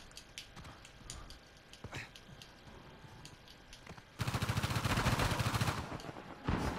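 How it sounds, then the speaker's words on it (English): Rapid bursts of gunfire from the Uncharted 4 online multiplayer game, starting sparse and scattered, then erupting into a loud, dense volley of repeated shots near the end. "He's taking heavy fire."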